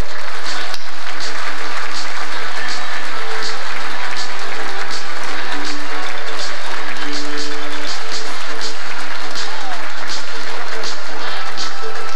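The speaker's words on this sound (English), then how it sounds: "So give him another round of applause, please." A large audience applauds at a Chinese business association's Lunar New Year gala, a loud, dense wash of clapping that runs steadily throughout with faint voices mixed in.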